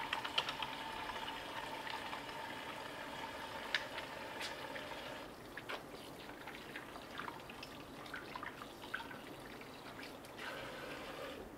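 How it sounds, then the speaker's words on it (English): Tap water running while hands are washed with soap, a faint steady trickle and splash with small drips, soft and alone. "let's wash our hands"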